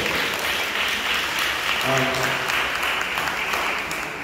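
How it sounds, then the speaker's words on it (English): An audience at a police precinct community council meeting in Brooklyn claps steadily, a dense, continuous wash of applause filling the room, with a voice briefly audible through it. "So, to the inspector, Inspector Griffin, welcome. Give him a round of applause."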